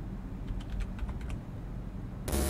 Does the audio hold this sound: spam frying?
no